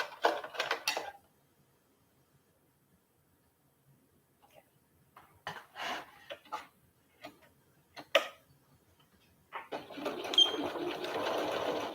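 A sewing machine stitches a Remy Raglan garment in short, close bursts, with pauses between runs and a longer steady stretch of stitching at the end.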